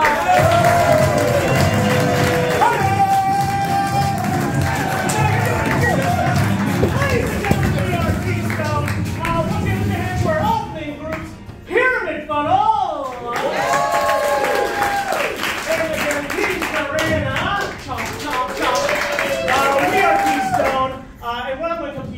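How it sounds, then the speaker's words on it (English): An improv theater audience claps and cheers in a thick burst for about ten seconds, then the applause thins out as voices talk over the room. "Give them a big round of applause."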